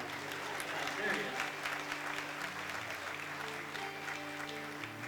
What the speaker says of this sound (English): If y'all don't clap for somebody representing Jesus